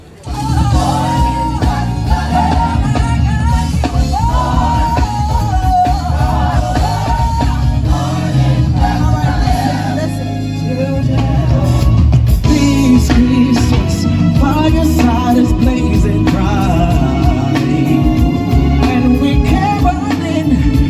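Live gospel and R&B holiday music from an ensemble at EPCOT's Festival of the Holidays, with loud, full singing over a steady band that swells louder halfway through, crowd noise mixed in.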